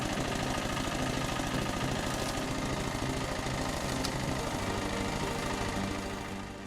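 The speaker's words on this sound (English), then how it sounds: "Introducing a unique homemade wood chipper for the 12-horsepower Zuber mini tractor." Homemade wood chipper with a 250mm metal disc, pulley and gearbox drive, powered by a 12-horsepower Zuber mini tractor, processing firewood: a loud, steady mechanical drone with constant rattling vibration that runs unbroken throughout, with no voices.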